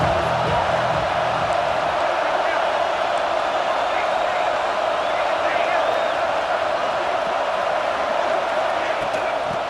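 Stadium crowd cheering in the EA Sports College Football 26 video game, a steady, dense roar that fills the whole stretch without letting up.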